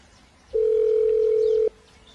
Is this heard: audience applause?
no